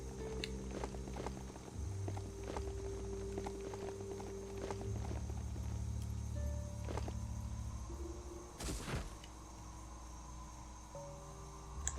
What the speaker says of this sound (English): It's a good thing we have our robot horse.